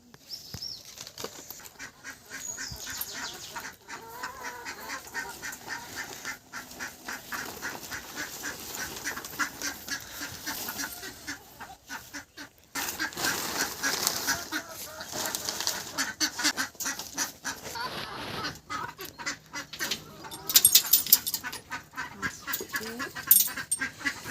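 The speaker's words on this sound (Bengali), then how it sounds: "হাঁস মুরগি দুজনেই একসাথে থাকে।" Domestic ducks and chickens kept together in a home coop, quacking and honking in a steady, overlapping chorus from several birds, fairly close and continuous, with no talk over it.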